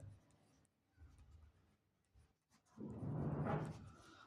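A pen scratches on paper while working through a math problem, with short strokes at first and then a longer stretch of steady scribbling, close and quiet with no talking.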